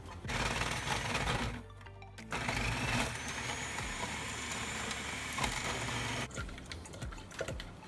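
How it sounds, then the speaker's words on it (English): An electric food processor fitted with its grating disc shreds vegetables, giving a continuous close motor whir with rattling chops that drops out briefly near the start and eases off at the end. "I'll be using the grating side of the food processor."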